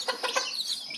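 Chickens cluck nearby on a goat farm, a quick burst of three sharp clucks followed by softer calls, heard on their own without any talking.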